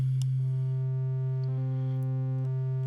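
A steady, pure-toned triangle wave from an additive synth plugin in Ableton Live holds a low note with faint odd harmonics above it; a brief higher partial enters partway through and then drops away.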